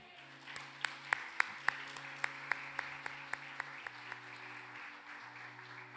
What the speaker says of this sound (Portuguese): Dá um amém bem forte e aplauda o Senhor.